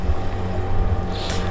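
Motorboats drone on a lake in Lithuania, a steady low engine hum with some wind noise, fairly close and continuous, with no talking.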